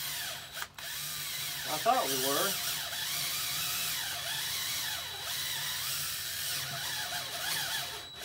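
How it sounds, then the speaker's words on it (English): A cordless drill with a weakening battery whirs as it bores through a hollow log, its pitch rising and sagging as it bites in, while a person talks briefly over the mechanical whine. "we're gonna drill a hole through just like this"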